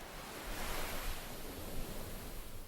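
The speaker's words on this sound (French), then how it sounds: "Le martèlement incessant des vagues sculpte les côtes." Ocean waves pound a coastline in a steady, roaring wash of surf, loud and close, with a windy rush over it and no voices.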